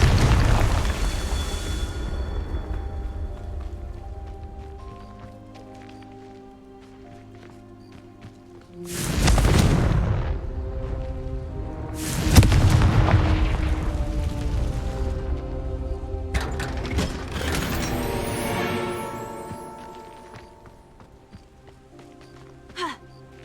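In Hogwarts Legacy, Confringo spells go off as three or four heavy booming blasts spread across the stretch, each a loud rushing burst over a sustained, tonal game soundscape.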